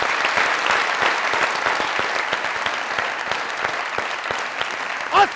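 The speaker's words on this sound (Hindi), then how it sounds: "जोरदार ताली।" A studio audience claps loudly and continuously on a comedy talk show, a dense, even wash of applause that keeps going until a brief voice cuts in at the very end.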